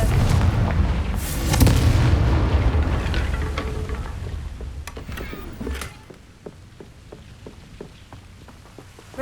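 A Confringo fire spell explodes in the Hogwarts Legacy video game, a loud close blast with a rumbling roar that fades into crackling and scattered debris patter.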